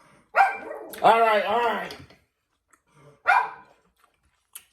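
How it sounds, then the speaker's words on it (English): A dog barks close by in a home: a sharp bark, then a longer run of barking and whining, and another single bark later. A voice speaks briefly. "I thought I heard a dog on the outside."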